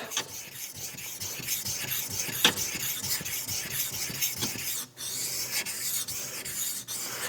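A KN Knives Master Hunter blade is drawn across a whetstone in steady, continuous rasping strokes, close and fairly loud, with brief pauses between passes and no speech.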